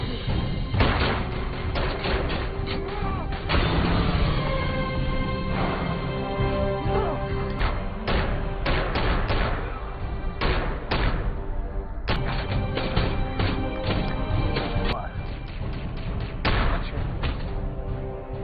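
A gunfight in the action film Vendetta, with a dense run of sharp gunshots, bangs and impacts over a continuous rumbling soundtrack, loud and close, with no speech.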